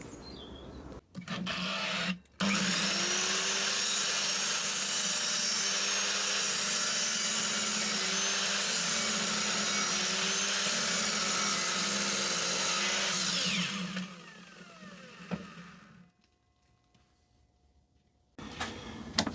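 A wood lathe spins a cast hardwood and resin blank for a Christmas tree, giving a loud, steady rasping whir with a bright scraping tone that runs unbroken for about eleven seconds, then winds down and stops.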